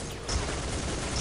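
Dense, continuous enemy gunfire from the video game Soldier of Fortune II, a loud rattling barrage of overlapping shots filling the whole moment without pause.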